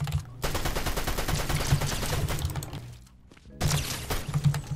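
Rapid gunfire in a video game, dense bursts of shots running loud and close for several seconds, breaking off briefly, then resuming with another heavy volley.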